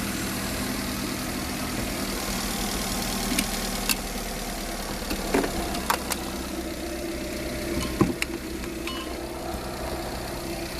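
A car engine idles steadily after an alternator repair and timing belt and ignition coil work, a continuous close low rumble with a few faint clicks and taps on top and no talking.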